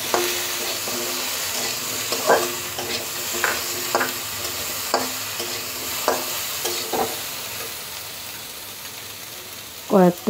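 Potatoes frying with ginger paste in a pan for cabbage curry, a steady close sizzle punctuated by regular spoon scrapes and stirs, with a louder clatter of stirring at the end.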